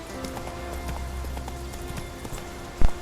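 Horse hooves clip-clopping at a run in the video game The Witcher 3: Wild Hunt, a steady close rhythm of hoofbeats over game ambience, ending with a louder thump.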